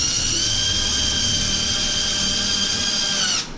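A power driver whines steadily as a screw is tightened into an RC car chassis, a close, loud, even high-pitched spin lasting a few seconds before cutting off abruptly.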